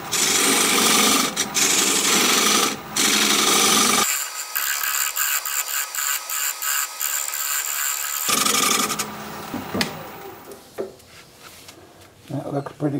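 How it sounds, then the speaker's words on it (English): A recess tool cuts into spinning pepperwood on a wood lathe, giving a loud, continuous scraping hum that drops to a thinner hiss midway, then returns with rougher, uneven cutting near the end. "I do have a recess tool that I'm going to use"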